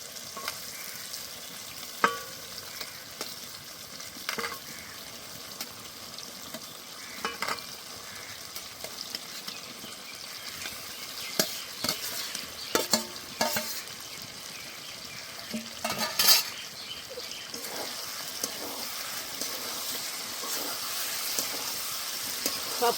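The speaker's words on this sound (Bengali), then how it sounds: "সবকিছু দিয়ে ভালো করে কষে নেব।" Fried potatoes and jackfruit are stir-fried in an oily spice paste, giving a soft continuous sizzle broken by repeated scraping and knocking of a spatula against the pan.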